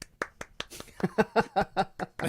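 A person clapping hands in an irregular five-beat pattern, sharp dry claps close up, some overlapping a voice or vocal sounds.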